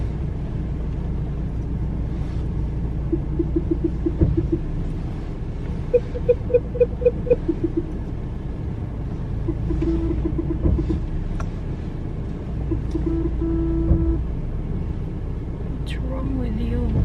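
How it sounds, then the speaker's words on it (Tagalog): Many cars pass along a busy road, forming a steady low rumble of traffic that swells and eases over time. Occasional brighter engine and tire tones rise above it, and voices are present in the background. "ang daming sasakyan"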